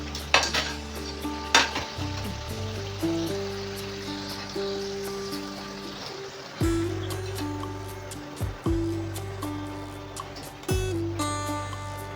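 Wheat-flour samosas sizzle steadily in hot oil over medium heat on their second side, a continuous broadband crackle with occasional clinks of a utensil against the pan and a low background hum throughout.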